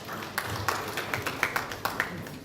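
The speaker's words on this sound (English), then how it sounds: "Shall we give him a round of applause, please?" Scattered applause from a workshop audience at a gas price report launch in Ghana, a light spread of claps with a few sharper hits, fairly close and moderate in level.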